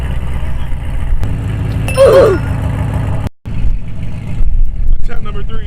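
A loud supercharged Cadillac CTS-V (first generation) exhaust rumbles steadily at close range, broken by a short sharp gap before the engine note returns; speech is heard over it.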